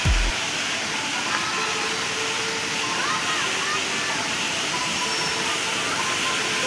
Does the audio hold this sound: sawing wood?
no